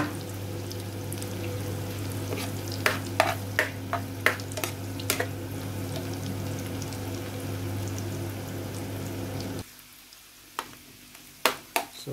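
Pancit bihon rice noodles stir-fried in a pan, a steady sizzle with a low hum underneath and several sharp utensil clacks scattered through, the frying dropping out near the end before a few more clinks.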